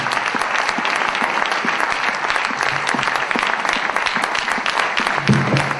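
A church congregation claps loudly and continuously for the Lord, dense sustained applause with occasional sharper individual claps standing out and a few faint voices mixed in.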